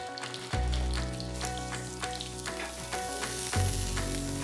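Sea bass laid skin down in a hot pan, sizzling and frying loudly and close up, with a sharp burst as the fish goes in and another surge near the end.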